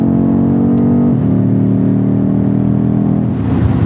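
A BMW SUV, an X6, accelerates hard during a race, its engine droning loud and steady from inside the cabin with a brief dip in pitch partway through as it shifts, then pulls on.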